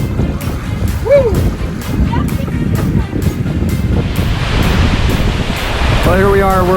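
Open-sea waves and wind roar continuously around a sailboat on passage from Puerto Rico toward Panama, a steady loud wash with microphone buffeting and a brief voice near the end.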